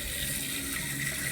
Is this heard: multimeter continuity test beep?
no